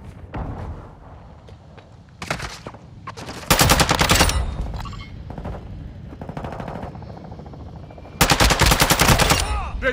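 Rapid automatic gunfire from a Call of Duty multiplayer match on PS5, with several loud bursts that start and stop abruptly, spaced between quieter stretches and lighter scattered shots.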